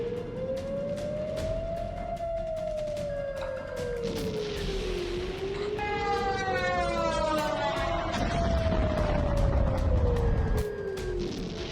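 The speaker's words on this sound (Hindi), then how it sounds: "यूक्रेन के शहरों में जश्न नहीं सायरन गूंजने लगते हैं" Air raid sirens wail across a Ukrainian city at midnight, several civil defense sirens rising and falling in long slow overlapping sweeps, loud and continuous over a low rumbling background.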